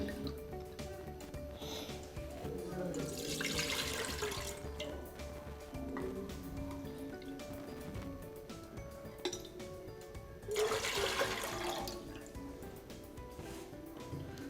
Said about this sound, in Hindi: सबसे पहले हम पैन में 2 प्याली पानी शामिल करते हैं।